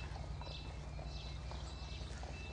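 Horses of the Republican Guard walking along an avenue in the Bois de Vincennes, their hooves clopping steadily and fairly close against a constant low rumble of background noise.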